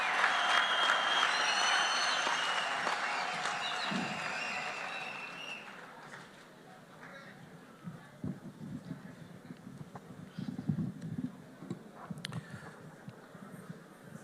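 Applause from an audience at a Kenyan public event attended by the president, loud and sustained at first, then fading into scattered clapping and crowd noise.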